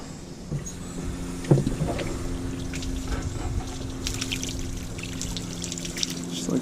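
Water splashes and trickles as a freshly cleaned sailcat fish is rinsed off, with a steady low mechanical hum running underneath and a few sharper knocks.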